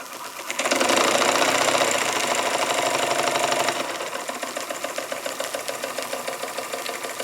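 A Jensen Model 75 small steam traction engine chugs with an uneven, knocking rhythm, loud at first with a hissing rush, then settling into a quicker, lighter rapid beat.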